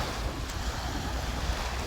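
Waves breaking along Manila Bay's Dolomite Beach, a steady broad wash of surf mixed with wind rumble, continuous and fairly close with no voices.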